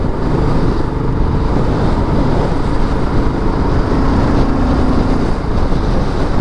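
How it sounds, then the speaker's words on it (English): A BSA Goldstar big single-cylinder motorcycle cruising in 5th gear at about 40 mph, its steady low engine drone mixed with wind rush, continuous and close without a break. "5th gear at 40 mile an hour, and pulls really well. Big thumper, big single thumper."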